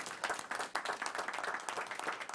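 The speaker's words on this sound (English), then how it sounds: "let's give her a round of applause" Applause at a school board meeting, a steady round of clapping from the people in the room, moderately loud and even throughout with no voices over it.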